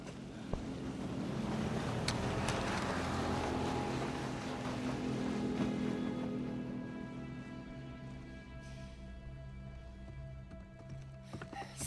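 A motorboat engine in Uncharted 4 drones loudly with rushing wind and water, swelling early then gradually fading into the distance as the boat pulls away.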